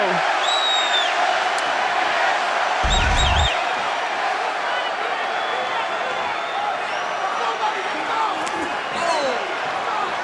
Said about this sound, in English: The crowd's chanting Diego.